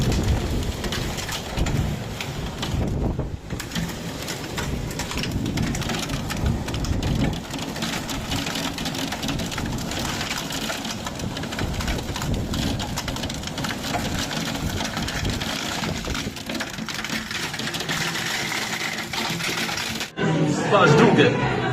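A storm with wind gusts up to 50 km/h, rain and hail over Zahorska Ves in Slovakia pours down as a loud, continuous rush with rumbling and an engine hum, then drops away abruptly near the end.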